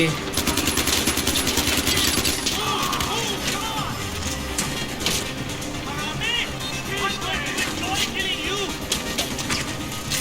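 Gunfire in the video game Far Cry 4, rapid machine-gun bursts and crashing impacts that are loud and dense for about ten seconds, with a voice talking over them.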